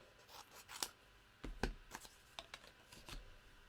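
Scissors snipping through paper while cutting out autumn leaf and toadstool stamped pieces for a wreath-style card, a series of quiet, irregular crisp cuts with short pauses between them.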